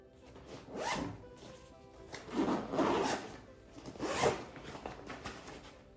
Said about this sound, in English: it has a YKK zipper with AquaGuard